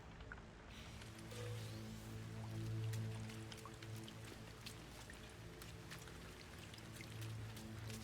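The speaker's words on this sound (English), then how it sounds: "Yes, there's a toxic rainstorm, but you have more time than it makes you think you do." Toxic rainstorm in the game No Man's Sky: steady patter of rain with scattered drips and crackles over a low constant hum, moderately quiet and unbroken.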